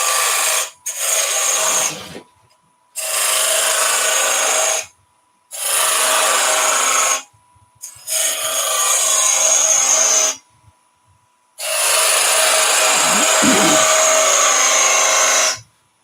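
A wooden bowl is shaped on a lathe with a 1/4 inch bowl gouge, loud rasping cuts in five long bursts separated by short pauses, close and without speech.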